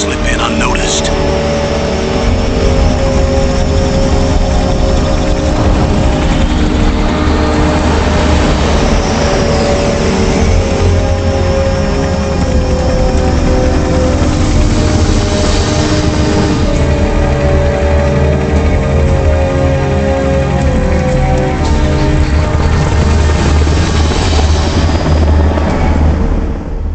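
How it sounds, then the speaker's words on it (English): A Russian Hind gunship helicopter flies in rain in the video game Metal Gear Solid, a loud sustained rotor and engine drone with rain hiss, steady throughout with occasional swells. "you must be crazy to fly a hind in this kind of weather"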